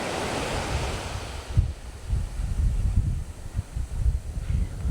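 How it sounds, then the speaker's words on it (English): Small ocean waves wash onto a sheltered New Zealand beach on the Kapiti coast, a continuous surf hiss with soft low thuds and gusty wind noise on the microphone. "you can see the waves don't get too big"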